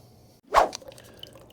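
Melted ice water draining into a transfer pump, heard as a single close wet plop and splash followed by faint dripping and trickling.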